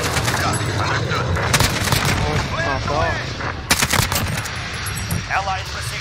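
AK-47 gunfire in the video game Modern Warfare, dense rapid bursts and cracks from several weapons through most of the stretch, loud and near, with voices calling out over the shooting.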